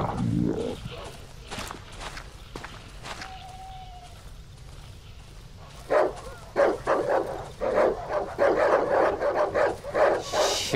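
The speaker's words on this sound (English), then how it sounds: "Shut up, dogs!" Several dogs bark repeatedly in the dark horror game Darkwood, a scattered near yelp early on building into a dense run of loud barks in the second half, with someone talking over them at moments.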